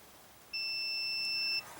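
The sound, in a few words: multimeter continuity test beep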